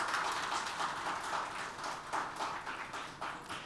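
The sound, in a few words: audience applause at a summit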